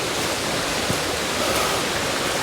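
Rushing river water at Golithia Falls, a steady broadband roar of raging falls close by, continuous and unbroken with no voices.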